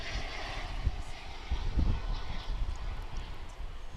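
Distant airplane engine roar as a jet takes off at DFW International Airport, a broad rumbling wash that swells slightly midway and stays far off.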